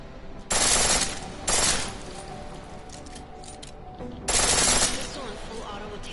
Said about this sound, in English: Pistol in full auto